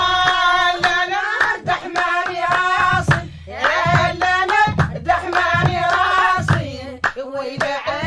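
Rhythmic hand clapping in Sahrawi Al-Hawl music from Western Sahara, sharp, evenly spaced claps beating under sung, harmonized chanting voices.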